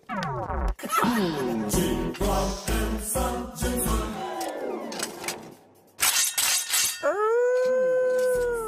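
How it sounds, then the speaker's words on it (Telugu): A dog howls in a comedy film scene: long, loud, wavering howls that rise and fall repeatedly, broken by sharp clattering impacts. A final drawn-out howl rings clearly near the end. "అదేంటి సార్ శ్మశానంలో కుక్కరిచినట్టు?"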